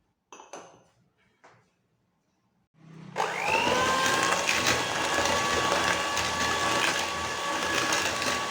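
An electric hand mixer runs steadily on low speed, beating sugar, orange zest and canola oil for cranberry orange bread, a continuous motor whir that starts after a few soft kitchen clatters.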